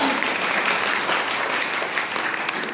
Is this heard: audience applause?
yes